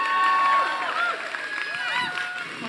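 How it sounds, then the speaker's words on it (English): Crowd noise at an outdoor rally against the Kavanaugh nomination as a speaker is welcomed, a steady wash of cheering voices and whoops with faint clapping, moderately loud and continuous. "Let's give her a huge round of applause."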